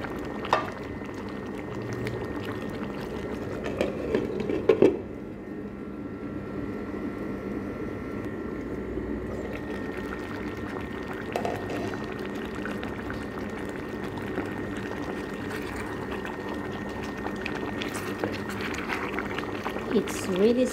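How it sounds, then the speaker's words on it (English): Beef bourguignon simmering in a pot, made without red wine: a steady, soft bubbling hiss that runs throughout, with a brief clatter near the start and talking over it. "We're going to simmer this one for 3 minutes."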